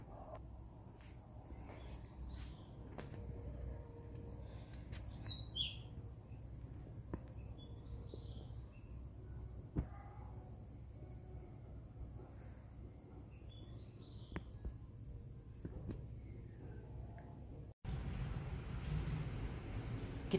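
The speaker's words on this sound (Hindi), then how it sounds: "सुबह के 4:30 बजे हैं अभी और चिड़ियाओं की आवाज़ जो है ना बहुत ही ज़्यादा अच्छी आ रही है।" Birds singing before dawn at 4:30 in the morning, scattered chirps and warbling calls at a distance over a steady, shrill insect drone and low background rumble.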